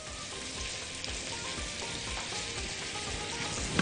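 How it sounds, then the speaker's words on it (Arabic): Onions frying gently in a pan until soft, a steady broadband sizzle with soft stirring scrapes, close and continuous with no talk. "أول ما تلاقي خلاص البصل دبل، مش عايزين نحمره ولا حاجة، احنا عايزينه بس يدبل"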